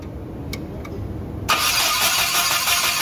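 A car engine cranks and catches during an ignition system check, a sudden loud turnover roughly halfway through that continues as a steady close rumble after a quieter stretch with a couple of faint clicks.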